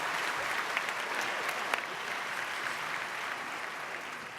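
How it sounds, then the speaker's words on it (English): An audience at a graduation ceremony applauds the concert choir with steady, dense clapping that fills the hall evenly from start to finish, without a break. "Let's have another round of applause for our concert choir."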